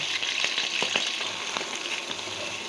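Garlic paste sizzles and crackles in hot mustard oil, a steady loud frying hiss with occasional stirring scrapes, close by and without talk.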